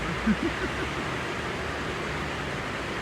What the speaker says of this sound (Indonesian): Nah, jadi hujan-hujanan.